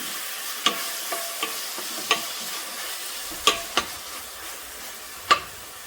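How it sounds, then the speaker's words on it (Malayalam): Chopped onion and green chili sautéing in a pan, a soft continuous sizzle punctuated by several crisp spoon taps and scrapes as the mixture is stirred, no talking. "ഇനി ഇതിലേക്ക് നമ്മൾ കട്ട് ചെയ്ത് വെച്ചിരിക്കുന്ന സവോളയും പച്ചമുളകും ഉണ്ടല്ലോ, അത് നമ്മൾ ആദ്യം ചേർത്ത് കൊടുക്കുകയാണ്"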